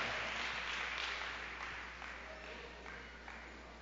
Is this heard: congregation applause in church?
yes